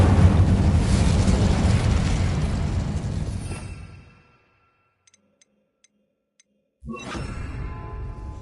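A fire spell is cast in the Hogwarts Legacy video game: a loud, roaring whoosh of flame rushes out for about four seconds and fades to near silence, then a fresh burst of fiery rumble returns.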